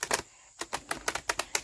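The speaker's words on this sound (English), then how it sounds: "I've just started to learn how to do this fancy shuffle." Oracle cards being riffled in a fancy shuffle, a quick series of sharp, crisp flicks and snaps in an irregular rhythm, close and fairly quiet, with no talk.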